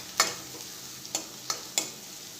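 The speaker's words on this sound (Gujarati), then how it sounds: "હવે લસણને પણ આપણે થોડી વાર માટે ચડવા દઈશું" Garlic frying in a pan, with a quiet steady sizzle under four brief scraping strokes of stirring spaced about half a second apart, no talking.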